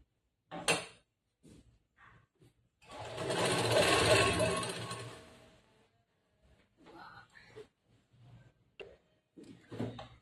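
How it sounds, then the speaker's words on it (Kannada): A sewing machine stitches along lining fabric on a collar-neck blouse in one sustained, steady run of a few seconds, with someone talking briefly before and after it. "ಲೈನಿಂಗ್ ಬಟ್ಟೆ ಮೇಲೆ ಹೊಲಿಗೆ ಹಾಕ್ತೀನಿ"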